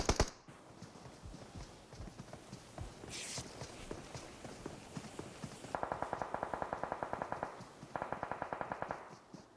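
Gunfire in PUBG Mobile during a squad cup finale, with scattered single shots and footsteps at first, then two bursts of fast automatic fire, moderately loud over a low game bed with no talk.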